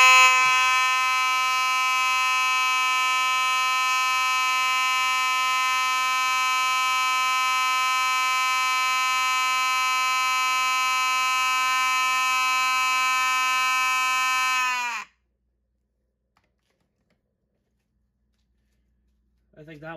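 A fire alarm sounds a loud, steady, harmonically rich electronic tone for about fifteen seconds and then cuts off abruptly into near silence, with a brief new sound at the very end.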